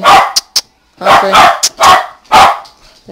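A dog close by lets out a rapid run of loud, sharp barks and a few shorter yips, each separated by a brief pause.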